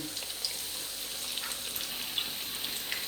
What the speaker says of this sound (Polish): Tak nam się smaży druga porcja naszych oponek z serem.